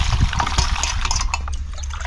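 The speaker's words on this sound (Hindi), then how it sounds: "सब लोग देखिए सबको धो लेते हैं बैंगन को जो है साफ पानी से कई बार" Eggplants being rinsed by hand in clean water in a kitchen, with close splashing, trickling and sloshing as the vegetables are rubbed and turned in the water.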